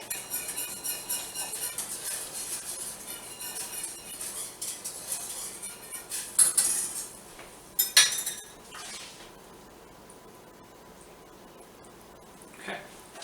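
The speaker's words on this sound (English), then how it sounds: "Give it a quick little stir." Pulled pork is stirred in a pot on the stove, with scattered clinks and scrapes of a utensil against the metal, a few sharper knocks mid-way and then quiet with one last tap.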